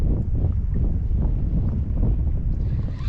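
A crosswind blows over a river during fishing, buffeting the microphone with a heavy, low, rumbling roar that surges and dips in gusts, loud and close, with no talking.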